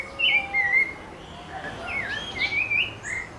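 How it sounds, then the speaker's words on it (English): A pale-breasted thrush (Turdus leucomelas) sings clear, varied whistled phrases in short bursts, moderately close against a quiet outdoor background in Brazil. "Pale-breasted thrush, Turdus leucomelas."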